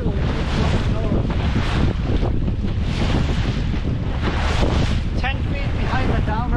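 Strong wind roars steadily across the microphone aboard a fishing boat trolling for coho salmon off Sheboygan, with water and hull noise underneath for the whole stretch and a faint voice buried in the gust.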